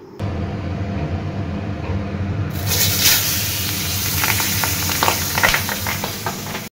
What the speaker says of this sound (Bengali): মাছটা কড়াইতে দেওয়ার সাথে সাথে এমন চটপট করে ফাটতে শুরু করেছে